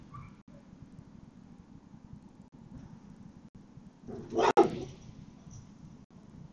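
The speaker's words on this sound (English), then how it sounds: "That's Jackson over there being a dog." Jackson the dog lets out a single short bark partway through, moderately near, against an otherwise quiet, faint background hum.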